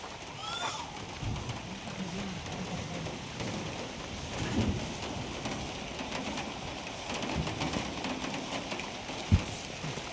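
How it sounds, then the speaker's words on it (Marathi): Summer rain falls outdoors under dark clouds, a soft steady patter on the ground with occasional louder drops and a faint rumble, heard from nearby with no talk over it. "उन्हाळी पाऊस बोलतात तशा टाईपचा पाऊस आहे"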